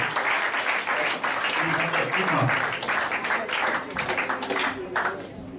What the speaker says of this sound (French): acclame le Seigneur Jésus, acclame le Seigneur Jésus